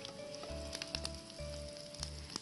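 Finely chopped green chillies and a few curry leaves sizzle in a spoonful of hot oil, a steady close frying crackle with soft rhythmic stirring thumps and no talk.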